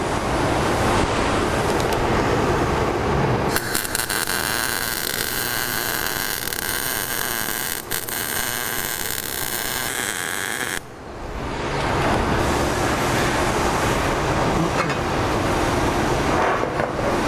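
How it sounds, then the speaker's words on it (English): MIG welding on a differential cover, a steady crackling buzz that runs loud and continuous for several seconds, stops briefly, then resumes, with no talk over it. "All right, so now we'll go weld the opposite corner? Yep. We'll weld this side now."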